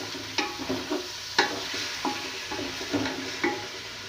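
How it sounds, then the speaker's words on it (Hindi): Meat frying in a pot for haleem, roasted until its colour changes, with a steady sizzle under repeated scraping and clattering stirring strokes roughly every half second to second, close and moderately loud, with no talking. "और मैं तब तक भूनूंगी जब तक कि ये गोश्त का कलर चेंज नहीं हो जाएगा।"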